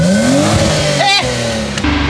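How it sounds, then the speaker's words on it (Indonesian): A BMW E36 car engine revs hard up close, pitch climbing steadily, then dropping sharply before rising again, loud and raspy with a brief hiss in the middle. "Coba kita dengerin mesinnya."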